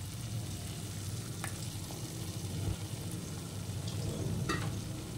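Whisked sour yogurt hits spice masala frying in oil for doi rui, a Bengali fish curry, giving a soft continuous sizzle with light stirring scrapes and faint clicks, no talking.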